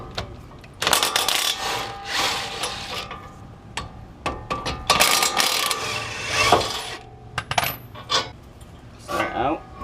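A ratchet wrench with a 24 socket works on the brake bolts of a Nissan NV1500 or Titan during a rotor replacement. Bursts of rapid ratcheting clicks and metallic clanks come close and fairly loud, with brief pauses between them.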